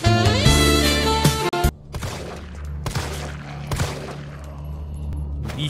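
Gunshots ring out in the video game Resident Evil 3 Remake, several separate sharp cracks spaced a second or so apart, loud and close, following a sustained musical tone at the start.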